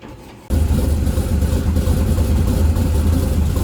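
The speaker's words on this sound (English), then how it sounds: "if you listen to the truck while it's idling, while I'm airing the suspension up and down, you can hear how bad it chops" A supercharged LSA 5.3 C10 truck idles roughly and loud nearby, kicking in abruptly and running as a continuous low rumble with an uneven, hunting chop.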